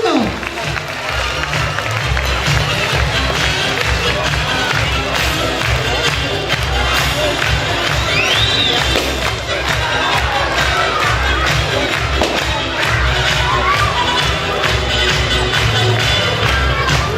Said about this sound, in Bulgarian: Я да видя децата, могат ли силно да пляскат още?